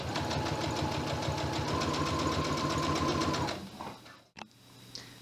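A sewing machine stitches along the lining of a duffle bag, running in a steady, fast, rattling rhythm for about three and a half seconds before stopping, followed by a few soft handling clicks and a quiet pause.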